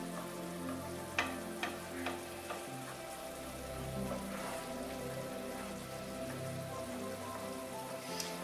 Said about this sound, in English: we just want to cook the garlic and onion until they're soft